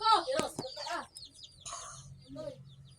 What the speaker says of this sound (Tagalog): Dami namin manok guys. Ayan o. Ayan sila guys o.